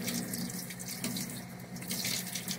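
A tap runs steadily into a sink while vegetables are rinsed of dirt, a close, continuous splashing hiss with no voices.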